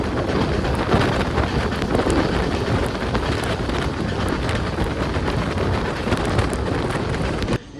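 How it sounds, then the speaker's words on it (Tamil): Heavy monsoon rain during a Jan Shatabdi train journey through the Kasara Ghats near Igatpuri, a loud unbroken roar of rain and wind that holds steady throughout. "நல்லா மழை பெய்யுது."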